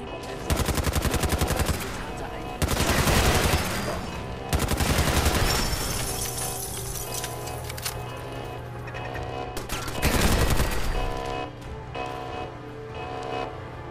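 Automatic gunfire in the video game Fallout 4, loud rapid bursts of shots with short pauses between them, over a steady background drone.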